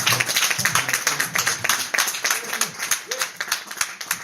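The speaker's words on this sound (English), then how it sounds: "Somebody clap your hands." A church congregation claps hands in a quick, uneven rhythm, with many palms overlapping into steady applause-like bursts while voices call out over it.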